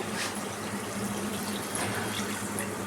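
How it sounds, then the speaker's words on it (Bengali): Water is poured into a pot of partly cooked meat for a Bengali chicken kosha, a steady near splashing and rushing stream running continuously without a break. "এবার আমি ওই জলটা দিয়ে দিচ্ছি"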